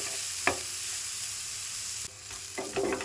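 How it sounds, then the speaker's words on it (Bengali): Onion fries with potatoes in a pan, a steady close sizzle broken by a few sharp scrapes and stirring knocks, with no voices. "পেঁয়াজটা আমি আলুর সাথে একটু হালকা করে ভেজে নেব।"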